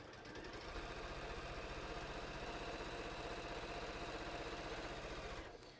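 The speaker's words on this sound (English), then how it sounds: "So I'm going to start sewing up." A sewing machine stitches a hiking belt in one continuous fast run, an even mechanical whir with rapid needle pulses, close and steady, stopping abruptly near the end.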